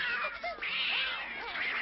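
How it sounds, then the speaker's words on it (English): A cartoon cat named Misha meows and caterwauls in rising, wavering yowls, loud and close, with no other voices. "Misha, stop that, you bad cat!"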